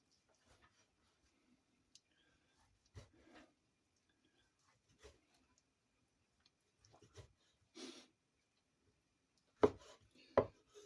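A knife chops spinach for a Korean cold side dish, giving scattered, faint thuds on a cutting board in small irregular clusters separated by long quiet gaps, with a couple of sharper cuts near the end.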